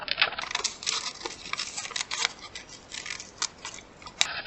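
Scissors snip steadily through a paper pattern for a butterfly suncatcher craft, a close, continuous run of crisp cuts with a few sharper clicks near the end.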